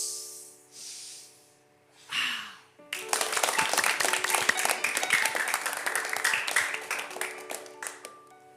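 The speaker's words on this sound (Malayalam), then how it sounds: "അപ്പോൾ നമുക്ക് സിസ്റ്ററോട് സ്വാഗതം ചെയ്യാം. ഒന്ന് ചാടി എഴുന്നേറ്റ്. Flower clap," An audience jumps up and gives a flower clap for a welcome at a Malayalam faith TV program: after brief talk and a breath, sustained dense group clapping fills the room for several seconds.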